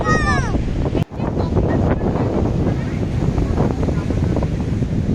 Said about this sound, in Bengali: সমুদ্রের ধারে বেশ কিছুক্ষণ ঘোরাঘুরি করলাম।